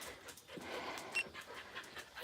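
A dog named Frizzy pants close by in quick, steady breaths, the soft rhythmic huffing carrying on throughout.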